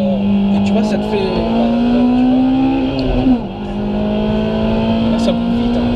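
A Honda Civic Type R EP3 accelerates on a motorway, its engine note climbing steadily through the revs from inside the cabin, loud and sustained, with a brief dip as it shifts before pulling again; a voice talks over it.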